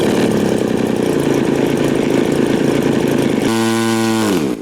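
Glow or gas engine on a 77-inch span RV-8 scale model airplane running up loudly and steadily close by, holding high revs before the pitch drops sharply as the throttle is pulled back near the end.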